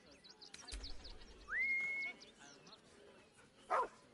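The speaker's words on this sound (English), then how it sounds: "He's a good dog." A dog in the video game Baldur's Gate 3 gives a short yip and a brief bark, fairly faint, amid game dialogue with people talking over it.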